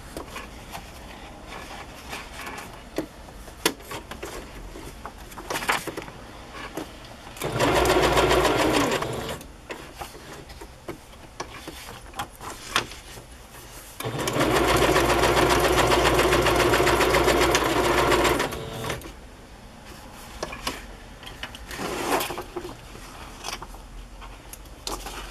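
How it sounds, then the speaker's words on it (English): A sewing machine stitches across a Christmas journal page in two sustained bursts, a shorter run and then a longer one, separated by quieter stretches of faint handling noise and no talk. "Sewing right over her face."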